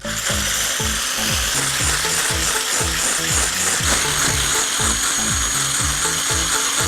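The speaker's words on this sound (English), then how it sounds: "Beat it until it becomes stiff peaks." Egg whites with lemon juice are beaten toward stiff peaks, giving a loud, steady whirring with a fast repeating scraping rhythm against the bowl that runs throughout.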